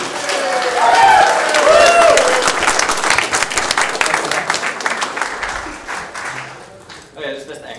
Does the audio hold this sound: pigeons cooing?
no